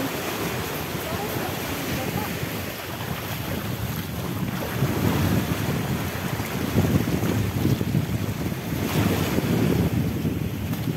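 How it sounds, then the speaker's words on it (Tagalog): Rough sea surf crashing onto a beach, a continuous heavy roar of breaking waves with strong wind buffeting the microphone, loud and close throughout. "Dagat."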